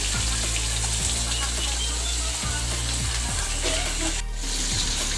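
Bangda fish frying in hot oil, a loud, dense, steady sizzle close by with faint clinks, continuous throughout without speech.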